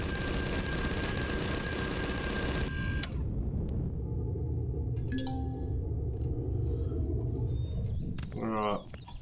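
Rapid automatic gunfire from the sci-fi survival game Empyrion Galactic Survival rattles loudly in a continuous burst, then cuts off into a quieter bed of game ambience with short electronic chirps and a muffled voice.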